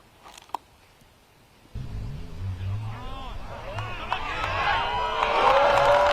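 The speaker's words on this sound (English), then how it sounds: "you heard the crowd yelling for it" Spectators at the 2023 PDGA Disc Golf World Championships women's round yell as a throw flies close to an ace: a near-silent start with a sharp tick, then a swell of excited voices that builds and peaks loudest at the end.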